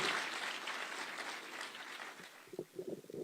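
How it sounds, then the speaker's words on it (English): Crowd applause for Kenyan Olympic team captain Faith Kipyegon at a reception at Eldoret State Lodge, a steady broad clapping that thins into scattered separate claps near the end. "Another round of applause for the captain,"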